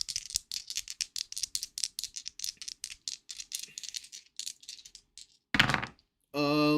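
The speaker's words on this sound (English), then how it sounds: "Oh, here's the sound of more dice." More metal dice rattle in a fast run of sharp clicks and clacks, close and distinct, thinning toward the end before a couple of louder separate noises.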